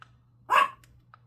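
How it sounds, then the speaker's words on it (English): A single sharp dog bark rings out indoors, fairly close and loud, with quiet room hum before and after it. "Who are you barking at?"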